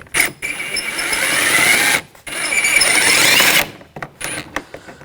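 A T20 socket spins a bolt loose during front window regulator work inside a 2000-2006 BMW X5 door, giving two long, steady bursts of whirring ratchet-driver sound with a short pause between them and scattered faint clicks afterward.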